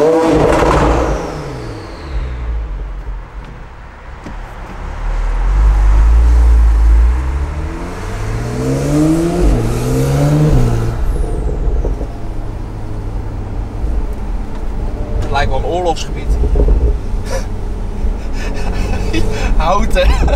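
Stage 2 Porsche 911 Turbo with an Akrapovic exhaust revving under a viaduct: loud, close engine blips with rising and falling pitch sweeps, a burst of heavier revving midway, and some talk alongside.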